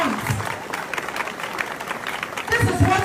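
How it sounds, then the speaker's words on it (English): A school crowd applauds a senior high student who returned a lost purse, with scattered clapping at a moderate distance under a voice speaking, growing louder and fuller toward the end. "Another round of applause for him."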